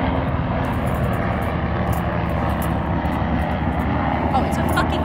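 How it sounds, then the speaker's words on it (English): A loud, steady engine roar fills the air as a military helicopter passes overhead, with a faint voice now and then. "it's a fucking military helicopter"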